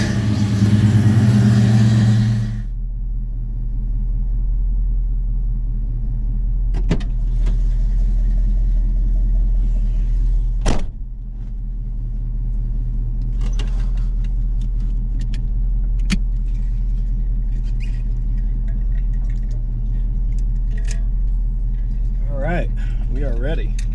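Car engine warming up without choke on a cold 40-degree day: a loud burst at the start settles into a steady low running hum, with a few sharp clicks and knocks over it.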